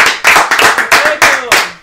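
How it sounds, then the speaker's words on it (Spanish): A few sharp hand claps ring out close to the mic in an irregular rhythm, about six or seven distinct claps in quick succession. "¡Zaira, hice un aplauso!"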